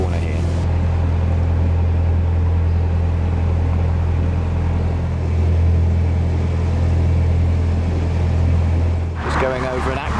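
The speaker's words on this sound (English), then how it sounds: "Going over an aqueduct over the M65." Motorway traffic on the M65 rumbles steadily beneath a canal aqueduct as a narrowboat crosses, a continuous low drone that holds throughout, with a voice breaking in briefly at the very end.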